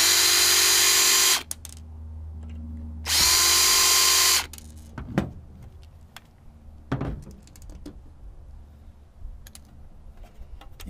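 A power drill backs screws out of a server switch housing in two loud, steady whirring bursts, followed by quieter clicks and handling knocks of the parts.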